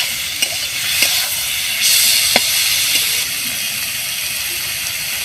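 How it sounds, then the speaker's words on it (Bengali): Chicken pieces fry in a pan for Chinese-style chicken Maggi noodles, a loud, steady sizzle with a few sharp clicks and scrapes near the start. "দিয়ে ভালোভাবে ভেজে নেবো চিকেনটা"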